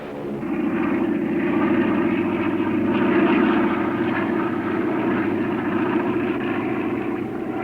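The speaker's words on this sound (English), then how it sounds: "Eight powerful little racers take to the air" Eight small, powerful racing airplanes roar past together in an air race, a loud sustained engine drone that swells slightly and holds steady throughout without voices.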